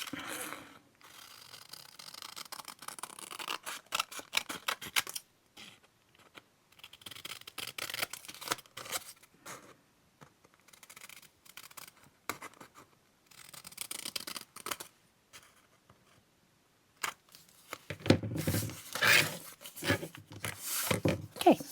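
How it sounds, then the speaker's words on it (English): Scissors cut out paper pieces for a junk journal, with irregular bursts of close, quiet snipping and paper rustle separated by short pauses, and busier handling near the end. "I'm going to cut these out, so let's cut that."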